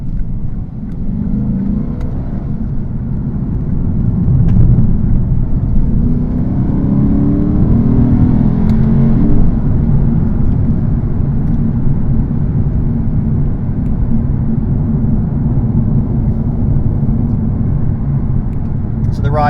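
A Lexus RC F V8 drives around a corner at Fuji Speedway, its engine a steady, loud drone with a gentle rise and fall, heard from inside the car with a voice talking over it.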